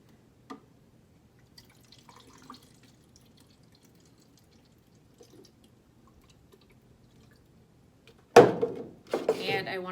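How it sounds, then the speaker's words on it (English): D76 developer is poured into a film developing tank for 35 mm film: a sudden splashing pour near the end, loud and close, after a long stretch of quiet broken only by faint handling clicks. "I would then pour it into my developing tank."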